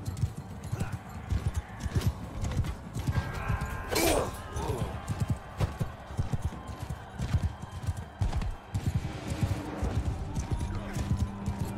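Rhythmic hoofbeats of a galloping horse in Mount & Blade 2: Bannerlord, with game sound effects and a brief sharp whoosh partway through; a voice talks over parts of it.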